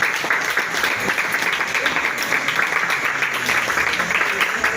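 Guests at a dinner in Abidjan applauding the organizing committee, a steady, moderately loud round of clapping lasting the whole stretch.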